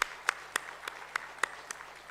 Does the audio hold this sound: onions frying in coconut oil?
no